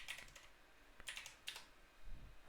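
Quiet, close clicks of computer keyboard keys in a few short bursts, typing a brief response at a terminal, with a soft thump near the end, alone over faint room noise.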